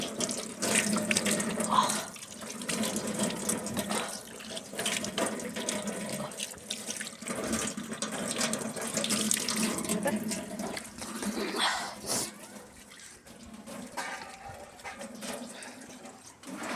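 Cold water runs steadily from a tap, a continuous close splashing rush with shifting intensity, and faint voices and a distant dog bark show through in places.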